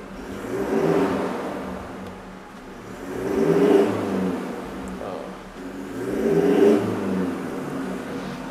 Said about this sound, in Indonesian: Nah untuk bagian belakang dari mobil ini juga udah kita tambahkan untuk adanya full system exhaust dari bagian depan ke belakang.